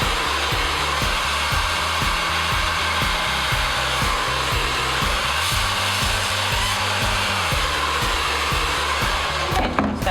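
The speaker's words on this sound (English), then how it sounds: "when you are using your blow dryer that you keep it really close to your aluminum" A hair dryer held close to aluminum foil on bleached hair blows loud and continuous throughout, with a rhythmic fluttering pulse underneath the steady rushing air.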